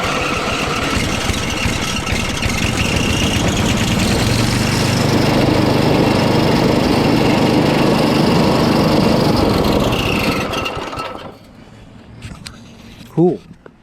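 Briggs & Stratton 7.75 engine on a Troy-Bilt XP TB330 rear-wheel-drive lawnmower, just repaired after a sheared flywheel key, running loud and steady close by for about ten seconds before cutting off, followed by brief quiet and a short voice.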